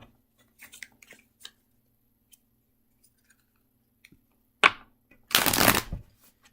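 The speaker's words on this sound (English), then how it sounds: "So I'm going to shuffle" Tarot cards are shuffled in one sharp riffle followed by a longer, louder burst of rapid card flutter, alone after a few faint soft handling taps.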